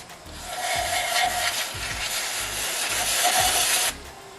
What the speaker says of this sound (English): just clean it off with a clean rag like this